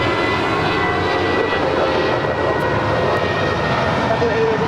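A jet airliner takes off from a runway at Los Angeles International Airport, a loud continuous engine roar that holds steady throughout.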